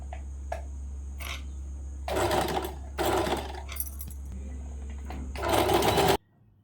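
A Jaguar sewing machine with an all-purpose presser foot stitching a decorative design, several short whirring bursts of needle motor over a steady low hum, the last burst longest before it stops.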